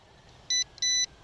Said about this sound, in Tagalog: Yun, nag-double beep. Ibig sabihin, nag-connect na sila.